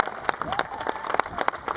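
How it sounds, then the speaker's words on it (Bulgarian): Spectators at a rally car race award ceremony applaud the winners, with sharp individual claps standing out above a crowd and voices mixed in throughout. "моля вашите аплодисменти за победителите!"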